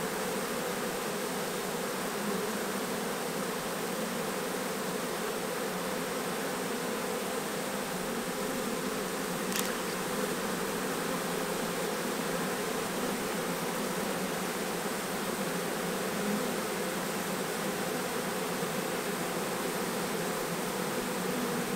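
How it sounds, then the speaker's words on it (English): A honey bee swarm pouring out of a hive, a dense steady buzzing drone from many bees that holds without a break throughout, close and fairly loud. "this swarm is not taking its time about it."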